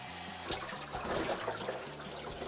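Water runs steadily into a bowl while soaked seaweed is rinsed, a splashing gush heard close by with no talking.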